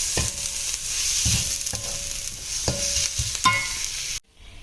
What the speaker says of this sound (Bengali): এবার এটাকে হালকা করে ভেজে নেব যতক্ষণ আদা রসুনের কাঁচা গন্ধটা চলে না যায়।